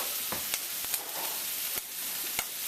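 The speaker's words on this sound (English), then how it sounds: "And the onions will cook as the liver's cooking." Liver and onions frying in extra virgin olive oil give a steady, close hiss of sizzling, broken by a few sharp crackles and pops spaced irregularly through it.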